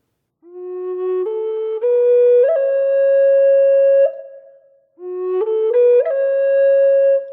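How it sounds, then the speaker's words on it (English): A Native American flute plays two clear, breathy phrases. Each starts low and steps upward through quick little flicks into a sustained main note, separated by a short pause. "a grace note, a single note that leads in to that main note"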